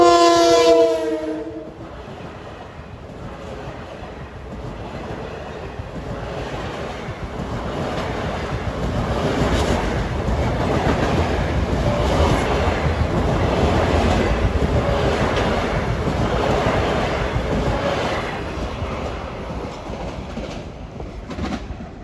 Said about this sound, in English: MU 9958 from Hicksville to Ronkonkoma to pass by